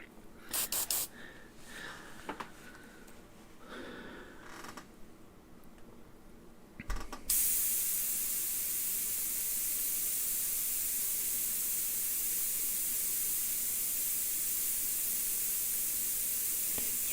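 An airbrush sprays paint in a steady, close hiss that runs on alone, preceded by a few seconds of uneven, sputtering bursts as the paint spits.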